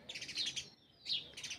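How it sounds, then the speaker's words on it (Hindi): Small birds chirp outdoors in two quick bursts of bright, high tweets separated by a short pause, moderately close and fairly quiet, with no one talking. "यहाँ पे सुबह से शाम तक चिड़ियों की चहचहाट।"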